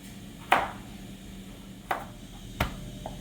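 Three or four sharp knife chops on a cutting board as carrots and onion are sliced, spaced irregularly and close up, with a quiet room tone between strikes.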